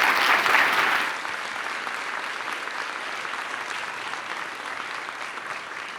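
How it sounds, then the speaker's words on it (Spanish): An audience applauding after a conference talk, loudest at the very start, then settling into even, sustained clapping that carries on to the end. "despedimos a Sheila con un fuerte aplauso"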